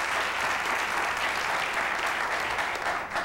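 Studio audience applause on a television interview set fills the moment with continuous, evenly packed clapping at moderate level, heard by itself with no talking, fading slightly at the very end.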